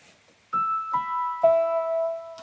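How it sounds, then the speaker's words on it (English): Three Wurlitzer electric piano notes struck one after another, each ringing on with a bell-like tone, played cleanly with no talking. "the third split is for the Wurlitzer."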